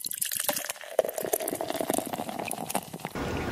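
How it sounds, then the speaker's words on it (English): Root beer poured from a bottle, a steady liquid stream with splashing and fizzing patter that runs about three seconds, close and fairly loud, with no talk over it. "thank you for pouring that root beer"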